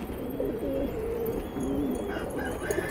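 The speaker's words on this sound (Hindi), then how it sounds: "जवाब नहीं है भाई कबूतरों का।" Desi pigeons cooing in a loft holding many birds, with several soft, throaty coos repeating close by over a steady background.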